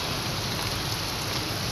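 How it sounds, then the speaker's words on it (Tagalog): Rain falls on the shelter of a gasoline station, a dense, even hiss that stays loud and unbroken throughout, with no voices. "Ito ulan guys"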